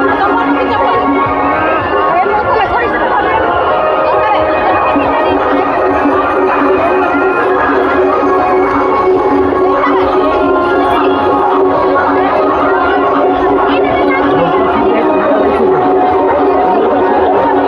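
Dense chatter from a large crowd fills a religious katha gathering among market stalls, a steady loud hubbub of many overlapping voices throughout with no single speaker standing out.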